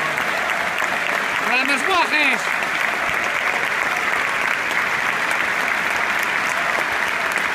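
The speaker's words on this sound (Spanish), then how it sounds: "aplaudimos al Betis, el Sporting" A stadium crowd at a Sporting versus Betis football match applauds steadily and loudly throughout, a dense wash of clapping with shouting voices in the crowd.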